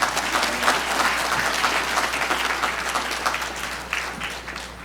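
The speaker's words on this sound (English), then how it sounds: "Let's give another round of applause to CEO Michael Thurmond, Dr. Horston, and Dr" Clapping from a crowd at a closing celebration event, loud and continuous with crisp individual claps standing out, tapering slightly toward the end under a low steady hum.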